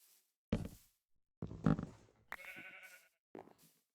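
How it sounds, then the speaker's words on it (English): Sheep in a video game bleat in several short separate calls, fairly close and clear, with quiet gaps between them. "See if any sheep have regrown their wool."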